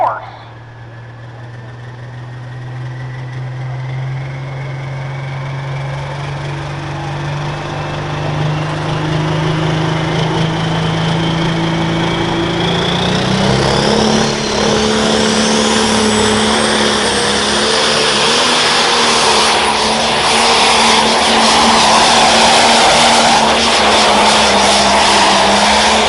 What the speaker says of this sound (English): Here comes Ty Whitney, St. Mary's, Ohio, on the John Deere Pro Stock called Ground Force.